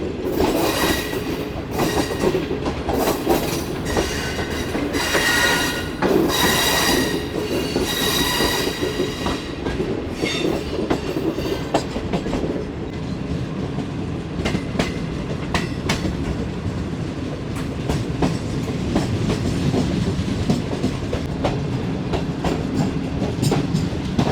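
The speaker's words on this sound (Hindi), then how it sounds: "फाइनली डाउन ट्रैक पर आ गई ये ट्रेन। और शाहजहां बाग से निकल गई है जी" Shalimar Express passenger train, with a parlour car, rolling along the down track after leaving Shahjahan Bagh, carrying steady loud rumble, wheel clatter and intermittent metallic squeals throughout, with no talk.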